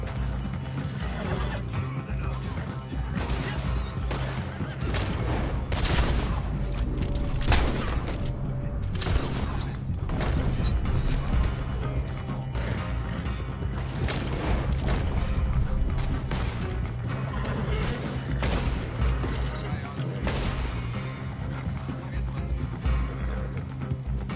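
Repeated gunfire bursts and crashes from an online multiplayer shooter game, loud and busy over a continuous rumbling game soundtrack, with dense impacts throughout.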